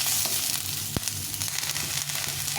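Cauliflower and thinly sliced capsicum fry in a little oil in a pan, giving a steady close sizzle with one sharp clack of a utensil partway through.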